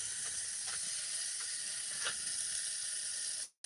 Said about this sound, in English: These are sizzle steaks, and I appreciate it.